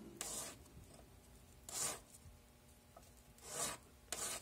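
Long push strokes of a hand file rasping across a surface, three or four drawn-out scrapes spaced about two seconds apart with quiet gaps between, close and fairly faint.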